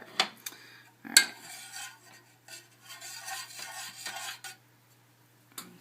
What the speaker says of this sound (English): You want to swirl the water with your spoon and make a little whirlpool for the egg to sit in.